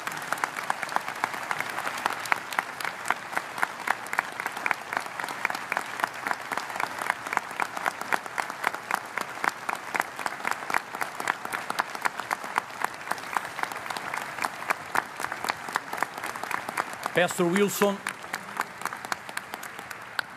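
A church audience applauds steadily and thickly for a departing pastor and his wife, sustained clapping filling the room throughout, with a brief voice near the end.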